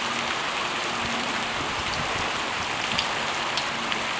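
Rain falls onto a house gutter fitted with a gutter screen, a dense and even patter of drops that continues unbroken with no voices over it.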